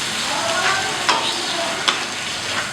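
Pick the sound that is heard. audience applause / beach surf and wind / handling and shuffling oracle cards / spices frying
spices frying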